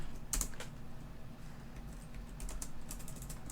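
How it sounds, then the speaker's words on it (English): Quick, uneven clicking of a computer keyboard being typed on nearby, soft keystrokes arriving in short bursts with brief pauses over a faint room hum. "It wouldn't be CentialChat without random typing in the background"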